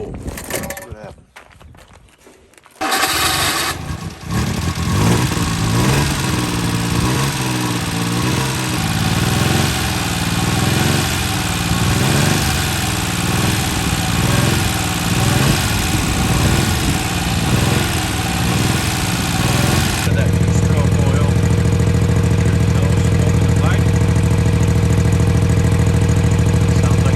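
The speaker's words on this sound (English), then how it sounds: "my wiring worked because I heard that hydraulic pump come on" A mini truck's hydraulic pump kicks on after a few quiet seconds and runs as a steady, close mechanical drone, shifting to a deeper, heavier hum partway through.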